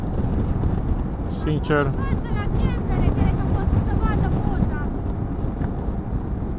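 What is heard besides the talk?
wind blowing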